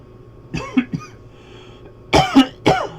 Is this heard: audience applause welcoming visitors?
no